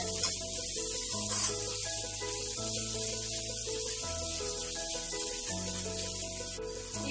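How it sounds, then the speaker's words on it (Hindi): Capsicum sautéing with other vegetables in a hot pan for street-style paneer chowmein: a continuous loud hissing sizzle under steady background music. "शिमला मिर्च डालकर इसको 1 मिनट के लिए थोड़ा सा सॉटे करेंगे"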